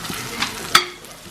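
Turmeric, red chilli, coriander powder and garam masala fry for a tadka with pumpkin in a pan, a soft sizzle under a few quick spoon scrapes and one sharp clink of stirring.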